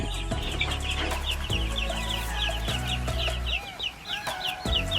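Chickens cluck and chatter continuously in a farm pen, many birds close by with overlapping calls and occasional thumps and clatter.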